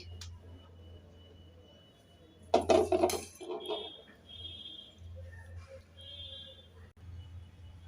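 Plate and utensils clatter and clink briefly in a home kitchen as hot cabbage kofta curry is served onto a plate, a short burst of dish knocks and scraping followed by fainter clinks over a low steady hum.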